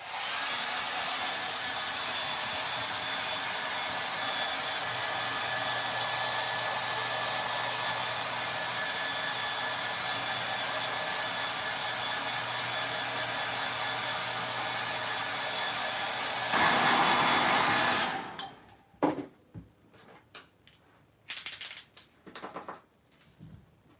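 A blow dryer runs as a steady, loud whoosh for most of the stretch, rising briefly before cutting off, followed by scattered clicks and handling noises.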